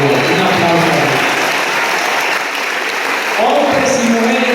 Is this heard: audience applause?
yes